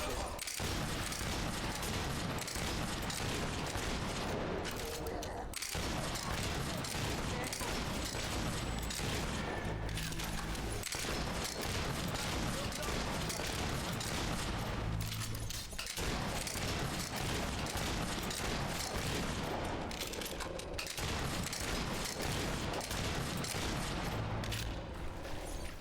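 Gunfire volley in the fantasy video game Fable 3: a dense, loud, continuous barrage of shots layered over game sound. The crackling burst carries on without pause for the whole stretch.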